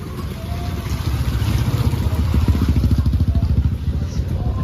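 A motor engine rumbles steadily nearby with a pulsing, rising drone, as if a motorcycle passes close by amid general street noise.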